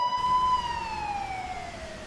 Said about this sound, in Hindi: देखिए मुझे सायरन की आवाजें भी सुनाई दे रही है